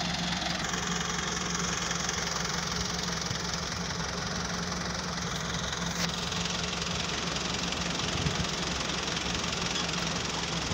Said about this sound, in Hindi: हूँ देख सकते हो ट्रैक्टर चल गया